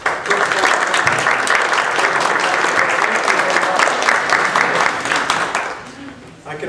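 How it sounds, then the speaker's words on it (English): Banquet audience giving a round of applause after a meal: dense, loud clapping sustained for several seconds with voices mixed in, tapering off near the end. "a round of applause"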